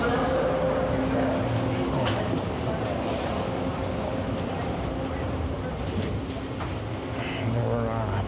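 A Toronto TTC subway train rumbles steadily at night with a continuous loud roar and faint squeals, running slowly past a work zone on the line.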